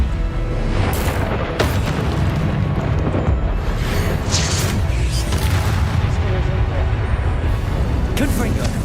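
Repeated fire-spell blasts in Hogwarts Legacy gameplay, heavy booming explosions with crackling bursts that rumble continuously over several seconds amid loud game combat noise.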